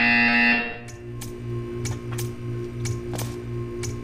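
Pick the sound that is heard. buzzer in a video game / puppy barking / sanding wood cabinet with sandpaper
buzzer in a video game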